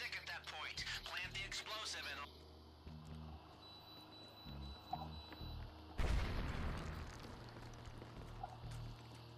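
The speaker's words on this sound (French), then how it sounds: "le tunnel derrière vous s'effondre à cause de l'explosion" A heavy explosion in a video game casino heist brings a tunnel crashing down: a loud broadband burst near the middle, followed by rumbling debris. Game music and speech come before it.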